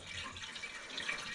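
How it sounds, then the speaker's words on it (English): Clean water splashing and running over a metal part to rinse off Evapo-Rust rust remover, a faint, steady trickle and splatter like a tap or hose at close range. "So now we just flush it with clean water"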